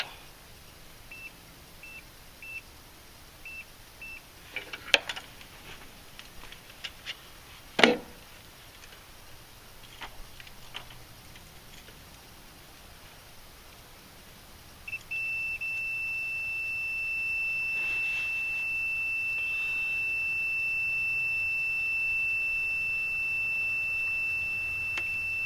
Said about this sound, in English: I'm going to set it so it beeps